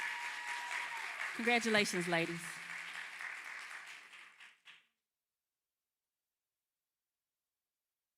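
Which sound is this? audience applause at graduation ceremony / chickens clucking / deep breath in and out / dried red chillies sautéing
audience applause at graduation ceremony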